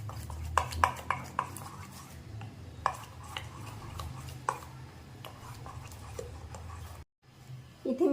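Semolina batter with chopped tomato, green chilli and coriander for rava uttapam, stirred in a bowl: a spoon scrapes and clinks against the sides in irregular knocks over a low steady hum, stopping briefly near the end.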